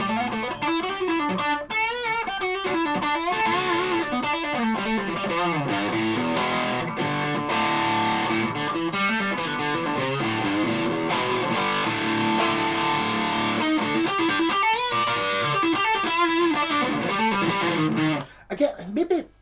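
A 1981 Japanese Ibanez Blazer BL450 electric guitar played through a distortion pedal gives a sustained, crunchy overdriven tone, with chords and notes ringing continuously and loudly before cutting off near the end.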